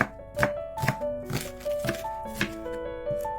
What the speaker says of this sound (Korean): 양파와 대파를 썰고